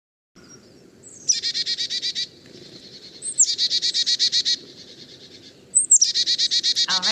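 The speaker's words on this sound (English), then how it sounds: "that's the song and the call of the Carolina chickadee" A Carolina chickadee calls close by in three bursts of rapid, buzzy, evenly repeated dee notes, each burst led by a brief high introductory note, over quiet background.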